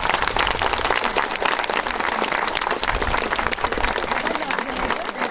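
An audience at the opening of a village hall in a Turkish village in Sivas breaks into steady, sustained applause, dense clapping from a crowd close by throughout.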